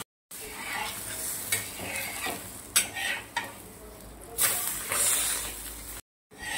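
Bottle gourd paratha cooks on a hot pan with loud, close sizzling and hissing that swells and fades in bursts, broken by short silent gaps at the start and end.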